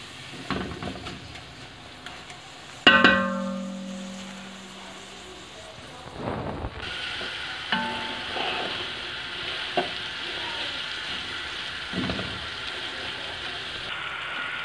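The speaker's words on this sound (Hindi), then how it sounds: "ये अब चलेगी चिकन की भुनाई कर लें थोड़ी सी, ताकि उसकी स्मेल ख़त्म हो जाए।" Chicken browns in a pot with spice masala for chicken daleem, a continuous sizzle with occasional stirring clatter and a sharp metallic clang early on, close and fairly loud.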